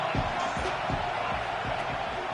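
Stadium crowd noise in a college football video game, a dense steady roar behind a third-down defensive stand, with rhythmic low thumps pulsing through it.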